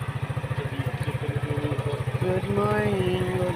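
A motorcycle engine warms up nearby with a rapid, even putter that steadies and rises slightly in pitch partway through.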